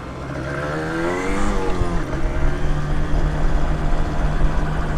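Yamaha DTR 125 motorcycle revving hard while riding, a loud buzzing two-stroke engine note that climbs, drops briefly during a gear change, then rises again, no voices.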